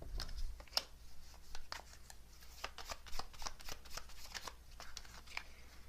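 Tarot cards are shuffled close by in a quiet room: a run of quick, crisp riffles and slaps repeating at an uneven pace, with no clear talk.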